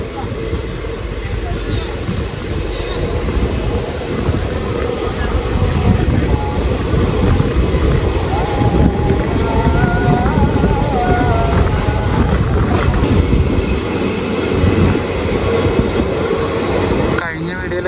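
The Maveli Express rumbles steadily along just after leaving Kasaragod, a loud, continuous rolling roar heard from inside the train, with a sharp drop near the end.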